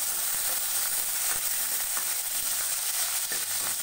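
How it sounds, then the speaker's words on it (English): Urad dal, red chilies and curry leaves frying in hot oil for a South Indian onion sambar, giving a loud, continuous close-up sizzle with no talking. "Let us fry them."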